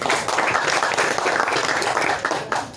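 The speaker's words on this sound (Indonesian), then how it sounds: "Berikan tepuk tangan buat Mbah Nur." An audience claps for an elder honoured as a historical figure at a gathering, the applause dense and steady throughout, moderately loud and fading slightly at the end, with no voices on top.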